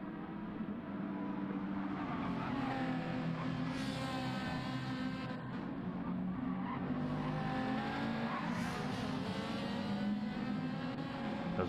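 GT4 race cars in a racing game hold a constant engine drone, with several cars running close together and faint tire squeal rising and falling over about twelve seconds.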